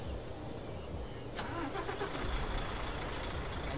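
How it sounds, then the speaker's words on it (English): A Daimler Freightliner Inspiration truck engine starting up in Euro Truck Simulator 2, with a sharp catch followed by a steady mid-pitched rumble over rainfall, heard alone and fairly close. "Engine sounds nice."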